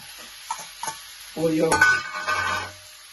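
Green chillies and garlic hit hot oil for a country chicken fry, bursting into a sudden sizzle with a few scraping stirs and light utensil clinks, close and brief.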